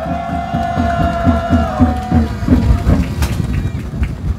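A crowd at a Korean rally cheers and claps while rhythmic thumping music or drumming beats underneath, loud and close, with a sustained tone fading away partway through.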